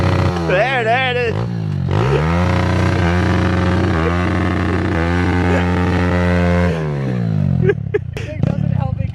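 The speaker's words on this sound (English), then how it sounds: "The rev limiter sounds different." A pit bike engine revs hard and bounces off its rev limiter, a loud, buzzy, stuttering drone that holds near steady before dropping away, up close and dominant.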